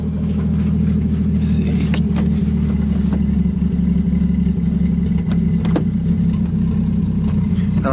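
A Nissan 240SX S13 with a swapped 1JZ engine on its first drive gives a loud, constant low rumble with slight revving and faint rattles, and a voice speaks briefly.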